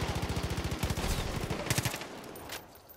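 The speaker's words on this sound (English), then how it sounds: "Yo, we're getting shot at." Rapid automatic gunfire from the Far Cry 5 video game, a steady stream of sharp rounds in quick rhythm, then a few louder closer shots before the volley tapers off, with no talk over it.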